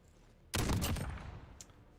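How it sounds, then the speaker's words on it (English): A single sharp, loud sniper shot in Call of Duty Modern Warfare cracks out suddenly, then its echo and a lingering rumble trail off over about a second. "And I think this is going to be a sniper shot."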